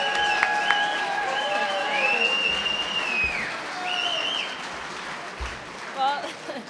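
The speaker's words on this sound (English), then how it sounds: "Round of applause for Jill" Audience applause for Jill Jedlicka at an evening environmental program, a broad wash of clapping with crowd murmur and some tonal sounds mixed in, moderately loud and steady throughout.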